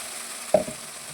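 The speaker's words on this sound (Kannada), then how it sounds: "ಈಗ ಇದನ್ನು ಒಂದು ಸ್ವಲ್ಪ ಅದೇ ಎಣ್ಣೆಯಲ್ಲಿ ಸ್ವಲ್ಪ ಹೊತ್ತು ನಾನು ಮತ್ತೆ ಫ್ರೈ ಮಾಡ್ಕೊಳ್ತಾ ಇದ್ದೀನಿ." A ground paste with garlic fries in oil for an Udupi-style vegetable dish. A soft, steady sizzle plays close by, with one brief clunk of a spoon partway through.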